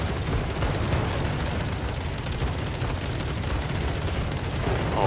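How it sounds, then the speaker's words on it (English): Anti-aircraft fire at attacking bombers in World of Warships, heard as a continuous dense rumble of rapid flak with a steady, unbroken roar throughout. "how much AA fire can they take before they finally go?"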